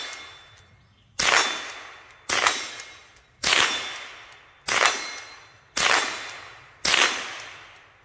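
Six sharp rifle shots from a Marlin Golden 39A during outdoor target shooting, each a loud crack with a ringing decay, spaced about a second apart.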